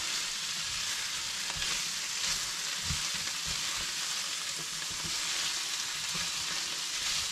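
Rice noodles with vegetables, soy sauce and a pinch of sugar sizzle and crackle in a frying pan as they are stirred, a steady close hiss with soft scraping and clinks throughout and no talk.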